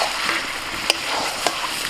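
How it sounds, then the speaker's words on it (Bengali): Chicken being sautéed and stirred in a covered pan with its own released juices, a steady soft sizzle with two brief sharp clinks of a spoon against the pan, close and alone. "এরকম ঢাকা দিয়ে দিয়ে মাংসটা কষিয়ে নেবো।"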